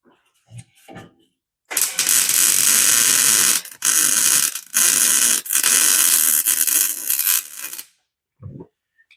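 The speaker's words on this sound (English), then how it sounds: "I love my MIG welder" A MIG welder stitch-welding a lower corner panel on a 1941 Ford truck cab, crackling loudly and close in several bursts of a second or two each, separated by short gaps, with a few quiet taps before and after.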